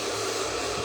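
A hair dryer runs steadily while blow drying hair during a long layered haircut, giving a continuous close, even whoosh of airflow.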